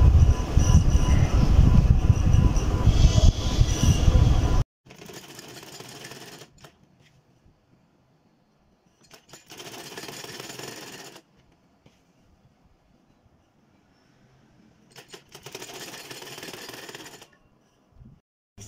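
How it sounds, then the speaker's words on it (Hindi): Sewing machine stitching a cloth cover for the Holy Quran, a loud close burst of rapid stitching followed by several shorter, quieter runs separated by pauses. "अब मैं करती हूँ सिलाई इसकी।"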